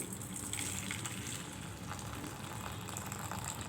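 Cooking water poured off freshly pressure-cooked dal in a kitchen, a steady continuous stream of splashing liquid at moderate level throughout, close by with no talking.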